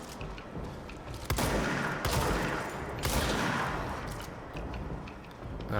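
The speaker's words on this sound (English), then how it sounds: "Stop shooting me!" Dense bursts of video game gunfire crackle through a power-plant level in rapid overlapping volleys, loud and busy with several sharp shot clusters standing out, and no talking over it.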